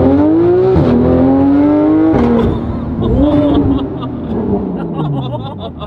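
A supercar launches hard in first gear, its engine note climbing steeply in loud rising sweeps before a brief drop and another surge, with people talking over the roar inside the cabin.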